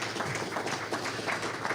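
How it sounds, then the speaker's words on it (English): Congregation applauds during a Sunday church service, a steady, moderately distant patter of many hands clapping with no break. "One more round of applause,"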